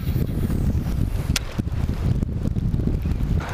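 Wind blowing outdoors during bass fishing with a baitcasting reel, buffeting the microphone as a constant close rushing roar with brief gusty swells and faint rustling.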